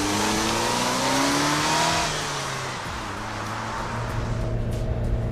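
A GM car engine with a ticking, rattling noise accelerates hard, its revving tone rising and then settling into a steady, loud drone up close.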